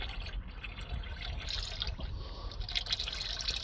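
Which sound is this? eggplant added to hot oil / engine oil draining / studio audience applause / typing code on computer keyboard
engine oil draining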